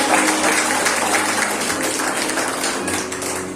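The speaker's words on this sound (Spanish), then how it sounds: "Denle un fuerte aplauso a Dios en esta mañana." A church congregation applauds during a Sunday morning service, steady close clapping throughout with a faint low musical tone underneath.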